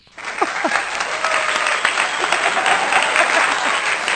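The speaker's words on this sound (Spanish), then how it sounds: "un aplauso para tu padre." A short hush gives way to strong, steady applause from a live audience at a talk show, dense and continuous, with a few voices faintly mixed in early on.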